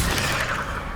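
A brief, dense burst of roaring fire from the Incendio spell in Hogwarts Legacy on PS5, loud and steady throughout with no voices.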